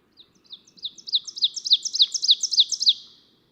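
An ovenbird sings from close by in leaf litter under shrubs, a clear, accelerating series of about a dozen bright, repeated two-note phrases that grow louder and then end abruptly.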